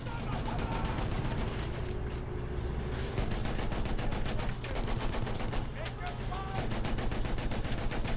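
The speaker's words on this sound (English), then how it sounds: "I'm shooting all of my ammunition around C." Gunfire in a multiplayer shooter video game: rapid, steady automatic bursts crackle continuously at a fairly even volume, with a player's voice talking over the shooting at times.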